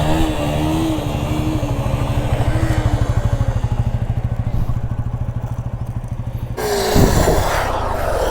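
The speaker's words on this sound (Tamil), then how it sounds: "அழுத்தியே பிடிச்சிங்கன்னா இந்த மாதிரி வண்டி ஜர்க்காகி ஆஃப் ஆகிடும்." A stunt motorcycle's engine chugs in a steady loud pulsing idle while the brake is held, then jerks with a thud and stalls, followed by a brief rough clatter.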